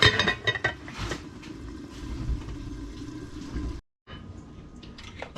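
Water runs and splashes into a pot as rice is washed, with clinks of the pot under the steady flow, close and continuous apart from a short break near the end.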